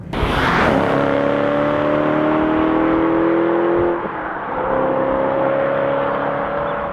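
A BMW M3 fitted with a modified exhaust revs and pulls hard, a loud, close engine note climbing steadily, briefly easing, then rising again alone.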